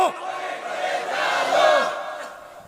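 A large crowd at a Bangla religious sermon gathering roars a chanted slogan back in unison, a swelling loud collective shout that rises and fades over about two seconds.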